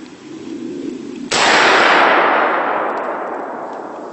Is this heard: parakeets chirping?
no